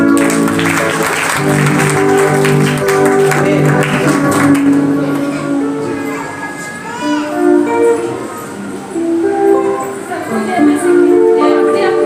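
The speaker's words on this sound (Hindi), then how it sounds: "ताली बजाएंगे सब।" An audience claps rhythmically at a gathering, a sustained patter of many hands mixed with singing voices, swelling and easing over about twelve seconds.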